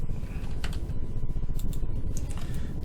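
Rapid computer keyboard typing of a short trim command in Revit, a dense run of close, crisp key clicks with no talk over them.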